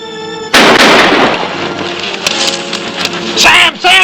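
Gunfire in a western cowboy TV series, a loud booming shot followed by echoing reports and further bangs, mixed with shouting voices.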